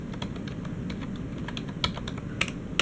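Someone types on a computer keyboard, a run of quick, close key clicks with a few sharper, louder taps near the end.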